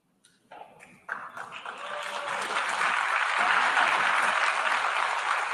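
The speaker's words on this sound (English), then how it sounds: "Thunderous applause from every country." Applause from delegates in the UN General Assembly hall starts with scattered claps, then swells into a dense, sustained ovation that fills the space, steady and moderately distant.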